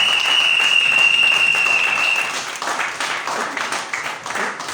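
A church congregation at a Pentecost service claps and applauds to acclaim the Lord, a dense burst of clapping with a thin high whistle-like tone over the first half, then slightly quieter clapping that carries on.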